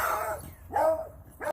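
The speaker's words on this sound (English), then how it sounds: "Sorry about the dog." A dog gives two or three short, close barks with a whiny edge, spaced about half a second apart, over quiet outdoor background.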